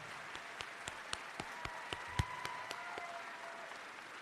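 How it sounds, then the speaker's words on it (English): Sustained applause from a high school graduation crowd at Chester High School as seniors are honored, a steady wash of many hands with a few sharper, closer claps standing out above the mass. "Please give our NHS seniors a round of applause."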